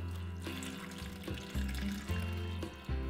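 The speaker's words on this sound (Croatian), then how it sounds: "Dolit ću vodu," Water pours steadily into a pot for cooking peeled apple wedges with sugar, a continuous close splashing stream heard over soft background music.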